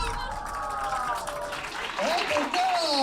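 An audience applauds a winner during an outdoor summer holiday event, clapping mixed with crowd noise and cheering voices, fairly distant and swelling louder toward the end.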